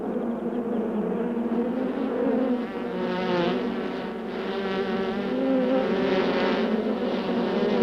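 Agitated honeybee hive just after the queen was removed: a loud, close, dense buzzing drone of many bees that swells and wavers, with no voices.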